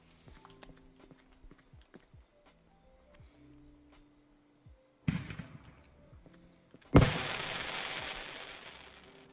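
Fireworks in the game Fireworks Mania: light scattered taps, then a sudden bang and a second, louder blast that crackles and fades out.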